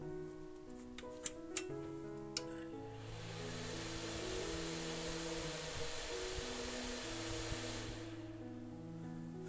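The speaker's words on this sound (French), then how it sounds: "Ce bruit important émane exclusivement de ce ventilateur." A computer fan in a desktop PC whirs steadily at full speed, a constant airy hum with a few faint clicks at the start.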